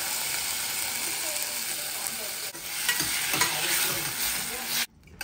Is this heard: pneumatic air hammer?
no